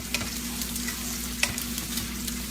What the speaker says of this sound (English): constantly stirring these eggs in as they cook